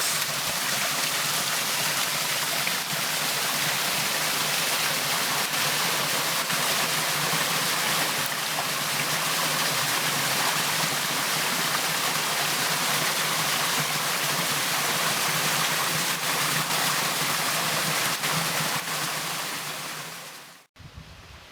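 A loud, constant rush of a waterfall and stream in Palm Canyon roars without pause, broad and close, masking everything else, then cuts off abruptly near the end.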